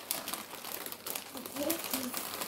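A plastic bag crinkling and rustling while a surprise box holding a toy gun is unpacked, with soft, irregular handling bursts close by as people talk quietly.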